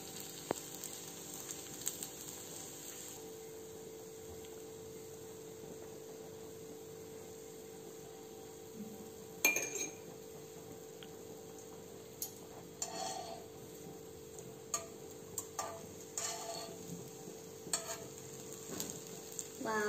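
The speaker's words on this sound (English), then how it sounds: "You can also deep fry your bread, but I'm shallow frying it in ghee." Bread pieces shallow fry in ghee in a pan with a constant soft sizzle, punctuated by occasional clicks and scrapes as the pieces are placed and moved, with no talking.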